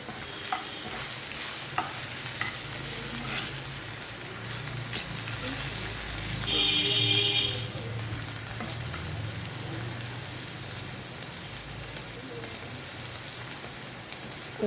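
An egg fries in a pan while making Bengali chirar polao, a dense, steady crackling sizzle throughout, with brief stirring scrapes and a faint beep partway through.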